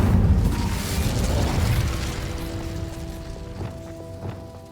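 Incendio fire spell cast in the Hogwarts Legacy video game, a loud whooshing burst of flame that swells at the start and fades over several seconds, followed by a faint ringing game tone and a few soft thumps.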